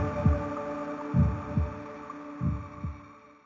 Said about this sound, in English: the rhythmic sound of a heartbeat echoed around her